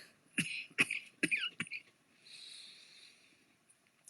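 A few sharp coughs from one person in a quick burst, followed by faint breathy wheezing, quiet and close with no talking.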